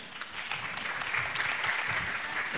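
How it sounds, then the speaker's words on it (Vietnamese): An audience at a Vietnamese TV show claps for Quang Linh, a sustained mass of hand claps that swells slightly in the middle and holds steady, fairly loud and close. "chúng ta vỗ tay cho anh Quang Linh ạ"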